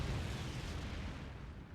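Bombs exploding in the aerial combat game The Sky Crawlers: Innocent Aces, a single heavy, rumbling blast that rolls out and fades over almost two seconds, with no talk over it.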